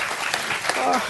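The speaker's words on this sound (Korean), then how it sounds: "여러분 요거 박수 한번 좀 주셔야 될 것 같은데" An audience at a talk concert breaks into brief, dense applause while voices carry on over it.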